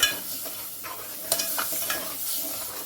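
Kolhapuri mutton masala stirred in a pan with a little oil, continuous soft sizzling broken by several sharp spoon scrapes and clicks against the pan.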